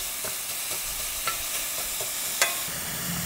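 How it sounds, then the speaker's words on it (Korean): Pork, about 300 g, fries in oil in a pan with a steady sizzle, while a few soft stirring clicks rise above it and no one speaks. "이렇게 오일을 넣고 고기 300g."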